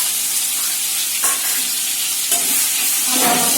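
Ground spice paste for a katla fish gravy fries in hot oil, sizzling steadily while a spoon scrapes and stirs it around the pan in a few distinct strokes.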